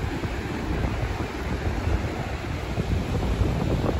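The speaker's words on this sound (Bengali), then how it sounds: "প্রচুর ঢেউ" Strong wind buffets the microphone on Le Touquet beach in northern France, with ocean surf rolling underneath as a constant, loud, broadband roar with no pauses.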